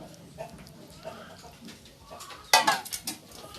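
Sambal for rujak kangkung, thinned with warm water and sweet soy sauce, is stirred in a bowl. Faint scraping and soft knocks lead to a sharp clink of a utensil against the bowl, followed by a few quick rattling taps.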